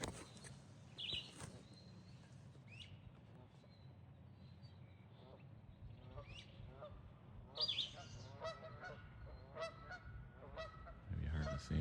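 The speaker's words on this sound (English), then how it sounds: "Well, I found some birds in the field." Honking calls of geese carry across open ground, scattered and fairly distant, growing busier toward the end over a soft wind rumble.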